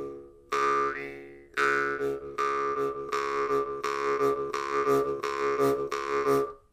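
Brass jew's harp plucked in a steady rhythm, its twanging drone pulsed and reshaped by breath effects, close and fairly loud, playing alone with short gaps between repeated twangs.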